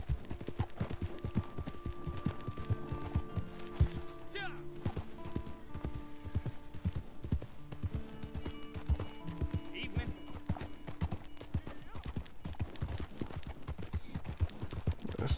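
Horse hooves clip-clopping at a steady walk in the video game Red Dead Redemption 2, with dense rhythmic thuds throughout under game music, and voices talking over them.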